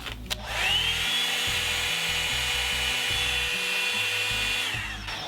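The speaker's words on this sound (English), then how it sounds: "This is on high." A Revlon One-Step hair dryer brush styler runs on its high setting, starting with a click and then giving a loud, steady motor whine with a rising tone, continuous until it winds down at the end.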